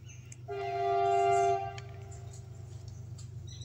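A train passing near Bilgaon station sounds a long steady horn blast of about a second that then cuts off, leaving the low rumble of the rolling train continuing underneath.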